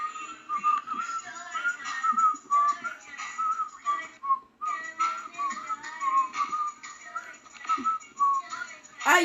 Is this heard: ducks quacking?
no